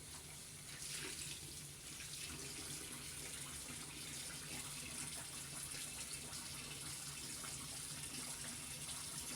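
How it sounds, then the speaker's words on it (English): Tap water runs steadily and close by for the whole stretch, a continuous splashing gush as someone rinses their face at a sink, with no talking. "Throw a little rinse on my face."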